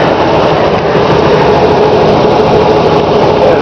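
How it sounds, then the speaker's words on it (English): A 1969 Ford Thunderbird V8, garaged and well kept, idles smoothly with a steady, even engine hum that holds at a constant level throughout, with no talk over it. "You can hear how smooth that motor runs."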